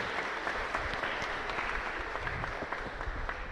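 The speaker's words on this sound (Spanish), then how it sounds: "Fuerte los aplausos para ellos." Steady applause from the congregation for the choir fills a chapel during a Catholic mass in Luque, a dense, even patter of many hands, fairly distant and moderately soft, with no talking.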